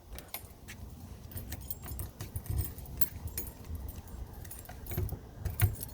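Keys jangle in a motorhome door lock as a Sunseeker Funseeker is locked, a steady rattle of metal keys lasting several seconds, close and fairly quiet, with no talking.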